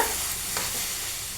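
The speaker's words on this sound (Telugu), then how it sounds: "ఎంత కావాలో అంత వేసేసుకొని మనం ఇట్లా కలుపుతూ ఉండాలి." Milk being stirred into a semolina mixture for kala jamun makes a steady, soft scraping swish, with one brief sharper stroke midway and no talking.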